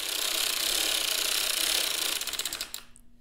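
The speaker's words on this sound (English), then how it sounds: "So I'm going to crank a few rows and just see how the tension looks." A hand-cranked sock knitting machine clatters in a rapid, even ratcheting rhythm that slows and trails off near the end, close and fairly quiet with nothing else heard.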